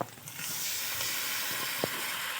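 Cumin powder, salt and sugar frying in a pan for an egg and potato curry give a steady, moderate hiss with a brief faint clink near the end.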